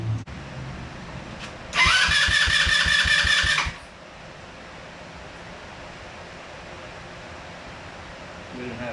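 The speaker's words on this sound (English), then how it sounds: "So maybe now it will actually spin over and run and stay running." The engine of a cheap Chinese Kazummo ATV with a new ignition system cranks over for about two seconds with a fast loud chugging whir, then cuts out, leaving quiet background.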